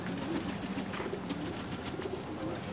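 A pigeon coos softly in low, rolling phrases, faint and fairly close, with a little background noise and no voices.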